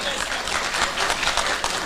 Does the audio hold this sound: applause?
yes